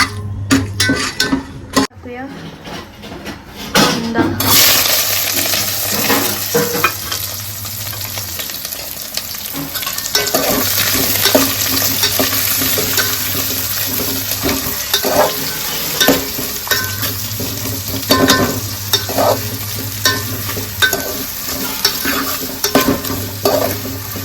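Onion and bay leaves fry in a pan with a steady sizzle, and a spoon scrapes and stirs through it now and then, close up. A low hum runs underneath, and there is some clinking of cookware.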